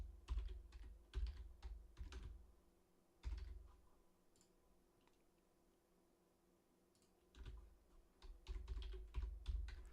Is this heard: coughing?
no